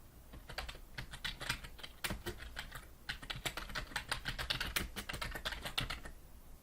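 Rapid, uneven keystrokes clatter on a computer keyboard in close bursts while a web design prototype is being built, with brief pauses between runs of typing and no voices.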